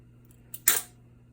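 A small screw drops during a CPU cooler installation, making one short, sharp clatter in a quiet room, preceded by a faint tick.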